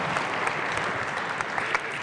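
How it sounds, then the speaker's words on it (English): Dense, even applause fills a large hall at the opening ceremony of a robotics competition's super regional, a continuous roar of many hands with occasional louder claps and no voices. "I want everyone to give them a round of applause for bringing these students here today"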